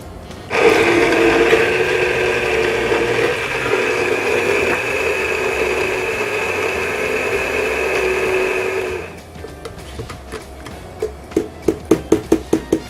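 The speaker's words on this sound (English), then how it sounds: "We're going to pulse it with the big stick from Waring, which has a variable speed and a 1 horsepower motor." A Waring Big Stick immersion blender with a variable-speed 1-horsepower motor whirs loudly and steadily for about eight seconds while mixing sugar water. It then stops, and a series of sharp tapping knocks follows.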